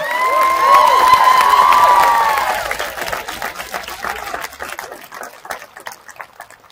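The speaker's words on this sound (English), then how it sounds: "I want to invite everyone to give a round of applause for the janitors of the school" Graduation ceremony crowd at Spanish Springs High School applauding the school janitors, a loud burst of cheering and whooping over clapping that fades after a few seconds into scattered claps and voices.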